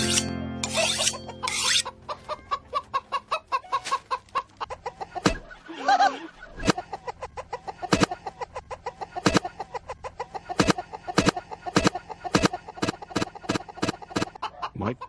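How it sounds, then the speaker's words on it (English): A chicken clucks in a rapid string of sharp, close, evenly spaced bursts that repeat steadily after a brief scratchy start. "My chicken is the star of the show."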